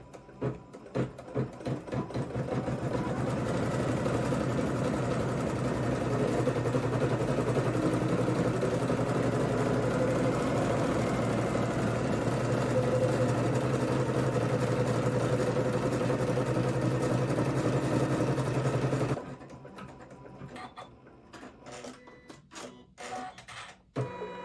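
Embroidery machine stitching out an in-the-hoop turtle stuffed toy, a dense, steady mechanical whir with rapid needle rhythm running continuously for about twenty seconds before stopping, then a few light clicks and handling sounds.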